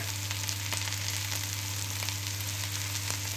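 Chicken pieces fry in canola oil in a pan with a steady, dense sizzle and crackle, close and continuous, over a low electrical hum, with no talking.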